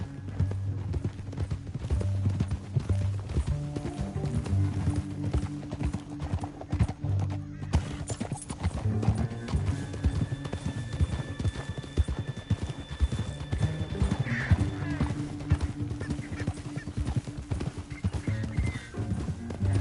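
Horse hooves clip-clop steadily at a gallop in Red Dead Redemption 2, alongside a low music bed, with an occasional whinny and brief voices.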